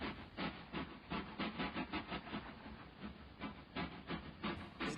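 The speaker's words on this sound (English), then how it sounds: "There goes the chuffing train." Rhythmic chuffing bursts, evenly spaced and fairly quiet, like a steam locomotive working steadily along the line.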